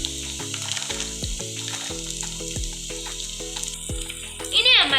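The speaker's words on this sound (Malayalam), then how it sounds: "ഇനി നമുക്ക് അതിലേക്ക് വെളുത്തുള്ളി ഇട്ട് കൊടുക്കുക." Garlic dropped into hot oil already holding ginger and fenugreek for a dates pickle, a continuous bright sizzle with a tonal hum underneath and a louder crackling flare near the end.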